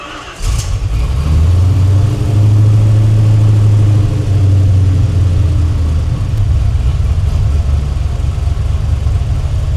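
A Chevrolet El Camino engine cranks briefly, fires up loudly and then settles into a steady, rumbling idle that carries on close by without a break.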